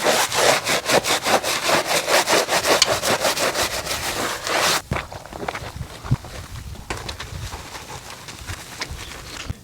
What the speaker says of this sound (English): This is a little detail brush.